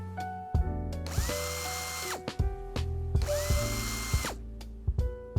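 A power drill driving out the armrest bolts inside a 2019 Hyundai Veloster Turbo cabin, with two long, loud whirring runs that rise and fall, separated by clicks and handling noises.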